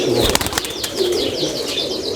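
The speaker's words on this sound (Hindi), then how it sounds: "ये भी टेडी है? ये भी टेडी।" Teddy pigeons in a loft, with bursts of wing flapping near the start and repeated soft cooing and chirps throughout, close and fairly loud, no talk.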